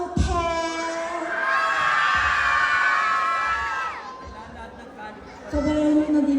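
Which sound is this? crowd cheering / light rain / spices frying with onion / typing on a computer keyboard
crowd cheering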